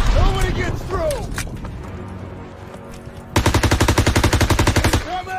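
Video game machine-gun fire in Call of Duty WWII rattles out as a loud, rapid, evenly spaced burst after a stretch of shouted battlefield voices and background combat noise.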